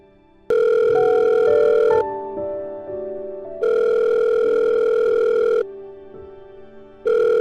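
Outgoing telephone ringback tone while placing a call, loud electronic tone bursts of about one and a half seconds separated by quieter gaps, repeating with no talk over them.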